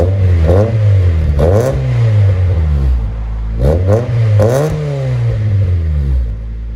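A 1988 Honda Prelude 2.0 Si with a 3-inch exhaust and Borla XR-1 muffler revs hard and close. Sharp throttle blips rise and fall in two pairs over a continuous loud idle.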